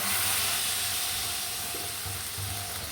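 Broad steady sizzling hiss from a pan of frying potato and soybean curry as water is poured in, loud and close, with faint stirring under it and no talk.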